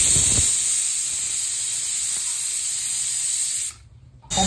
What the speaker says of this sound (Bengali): প্রেসার কুকারটা বন্ধ করে দিলাম।